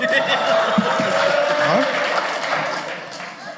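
A comedy-club audience at a televised stand-up gong show answers a comedian's embarrassing question with a burst of applause and scattered chuckles; fairly loud clapping that fades toward the end, with a brief spoken interjection.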